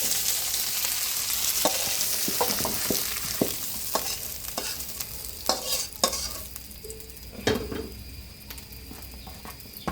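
Spiced, marinated meat frying in mustard oil, a continuous moderate sizzle broken by intermittent clinks and scrapes of a stirring utensil against the pan.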